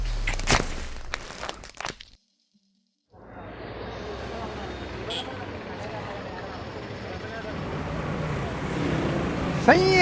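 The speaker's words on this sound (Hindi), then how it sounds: "अस्पताल में गाड़ियों का आवाज कहाँ से आ रहा है?" Steady road traffic noise with vehicles passing, a continuous broadband rumble that drops out briefly near the start and then returns, building slightly toward the end, with voices over the opening seconds.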